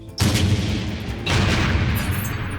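A tank gun firing an armor-piercing shell that explodes on impact against an enemy tank: two loud, sharp booms about a second apart, each followed by a dense rumbling roar that fills the whole clip.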